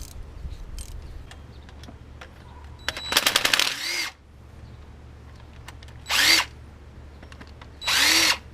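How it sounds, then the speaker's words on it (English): A power tool backs out an 8mm bolt on a 2008 Mustang coupe during a water leak repair: a close, buzzing whir with rapid ticks, then two shorter high-pitched bursts, over a quiet background. "So time to removing this 8mm bolt"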